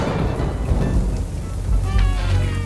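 Steady rain with low rumbling thunder from a sudden rain cloud, a continuous wash of noise with heavier swells near the end and a faint tonal ring over the top.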